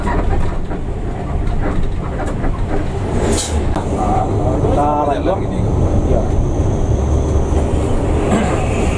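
Steady low rumble and rattling of a moving intercity bus heard from inside, on the road toward Palembang, with a voice speaking over the drone.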